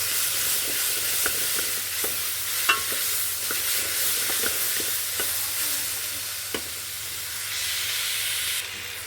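Ivy gourd masala gravy frying in a pan, a steady broadband sizzle with scattered light clicks of a spoon stirring through it, close and even throughout with no voices.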